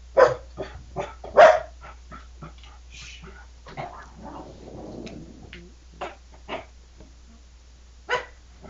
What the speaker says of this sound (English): my dog saw her coming, and that's why she was barking